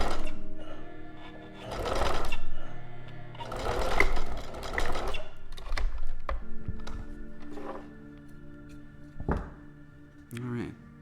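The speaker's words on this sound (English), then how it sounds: "if they're lining up, then you take that and you sew that seam" A sewing machine stitches a quilt seam for a sawtooth star block in bursts of steady mechanical whirring. Short runs are separated by pauses with thunks and taps, close and fairly loud.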